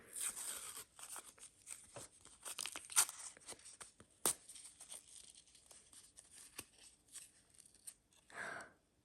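Close, crinkly tearing of a thin paper packet, with rustling and small crackles over several seconds and no voices.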